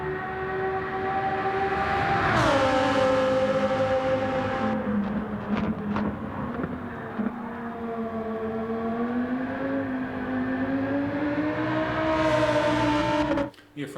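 A GT3 race car in Gran Turismo 7, heard from outside: a loud, steady engine drone with strong harmonic tones that rise sharply, dip, then hold and waver through gear and throttle changes, and swell again near the end before cutting off.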